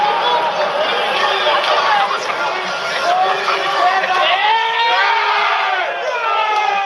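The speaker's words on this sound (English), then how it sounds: "Then, with one mind, the crowd surged and the floodgates burst." A large protest crowd in Melbourne surging against a police line backed by mounted officers, a loud roar of many shouting voices with rising cries and yells over a continuous babble of agitated voices.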